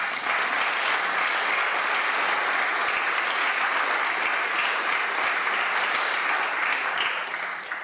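Sustained applause from a large audience in the Hellenic Parliament chamber during a federalist committee opening, a dense steady roar of clapping that fills the space evenly throughout, fading slightly at the very end.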